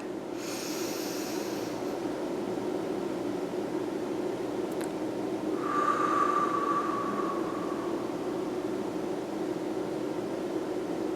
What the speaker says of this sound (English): We're going to take another deep breath.